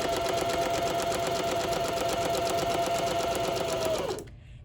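A sewing machine stitches steadily at close range in a fast, even whirring run that stops abruptly near the end, leaving near silence.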